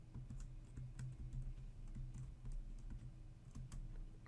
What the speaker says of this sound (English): Type in the root password